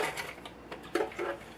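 A sewing machine stitching rows across fabric for a copied top, with brief, faint mechanical runs of rapid ticking.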